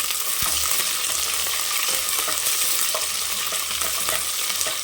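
Onions and green chillies fry steadily in a pan for mushroom biryani, a continuous close sizzle with occasional stirring scrapes and no voices.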